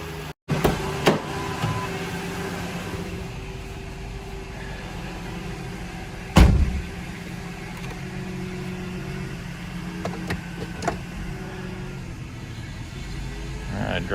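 A 1998 Ford Ranger with a swapped engine drives around a shop, giving a steady low rumbling engine drone with a heavy thump partway through and small knocks, close and continuous.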